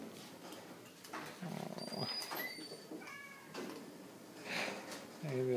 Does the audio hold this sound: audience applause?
no